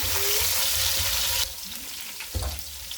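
Whole cumin, dried coriander seeds and whole and green chillies frying in a cup of oil for desi chicken curry, a loud steady sizzle that drops sharply as chicken goes in, then a renewed burst of frying.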